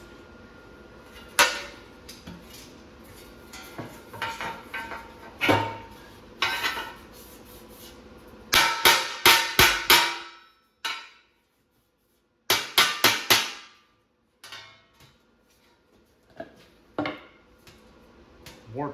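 A hammer taps down an arcade control panel on a Q*bert cabinet during restoration, with scattered single knocks and several quick bursts of three or four sharp metallic raps, separated by short silences.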